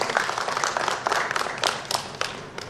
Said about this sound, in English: Can we have a big round of applause for all of them?